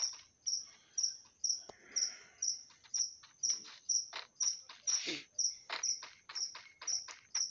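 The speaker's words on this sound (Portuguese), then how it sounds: "E o grilo tá cantando aí" A cricket chirps outdoors in a steady run of sharp, evenly spaced chirps about twice a second, loud and close, with faint rustling and other background noise between them.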